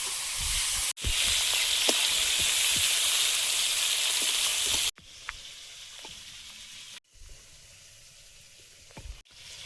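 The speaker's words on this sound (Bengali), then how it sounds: "এবার 5 ট্যাংরা মাছগুলো ভেজে নেব।" Tengra fish sizzle and spit in hot oil with a bright, close frying hiss that is loudest at first and then softer across several cuts, with faint clinks of stirring.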